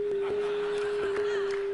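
Steady electronic sine tone from a head-mounted color sensor translating a dirty sock's color, a single sustained pitch held evenly throughout with faint background clicks.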